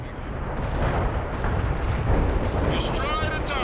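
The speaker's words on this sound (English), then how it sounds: "Artillery strike was on the mark." Artillery strike landing in the real-time strategy game World in Conflict: a dense, continuous roar of rumbling explosions, loud and sustained throughout, with no gaps.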